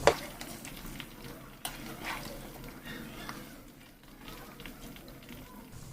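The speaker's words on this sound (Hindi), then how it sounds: "इसी तरह से उलट पुलट के हमें कम से कम 4 से 5 मिनट में हमें इस चिकन टिक्का को फ्राई करना है" Chicken tikka pieces frying in a pan and being flipped over, a soft steady sizzle with occasional stirring knocks, fairly faint and continuous.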